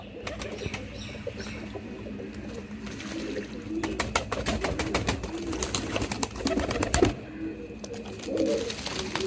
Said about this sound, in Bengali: নতুন কবুতরগুলাও গোসল করতেছে দেখেন